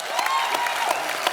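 Studio audience applause on a Hindi TV comedy show, a dense, even roll of many hands clapping at a steady level throughout.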